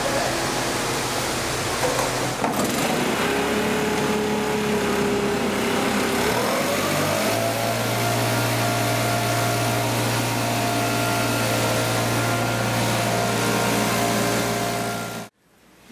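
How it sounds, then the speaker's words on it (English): A homemade hovercraft driven by a 1200 CFM leaf blower roars steadily and loudly, its pitch rising and settling into a sustained whine and drone before cutting off abruptly at the end. "Combination of a larger and more powerful leaf blower and a shorter hover height worked"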